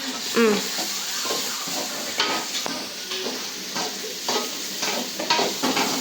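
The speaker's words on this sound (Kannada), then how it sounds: "ಆನಿಯನ್ ಫ್ರೈ ಮಾಡ್ಕೊಳ್ಳೋಣ." Onions fry in a pan with steady sizzling, overlaid by repeated scraping and clinking strokes as they are stirred, close and moderately loud, with faint voices in the background.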